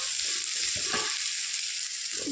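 Ginger garlic paste sautés in a pan for egg curry, giving a steady, fairly loud hiss of frying with a few soft stirring scrapes, close by and without talk.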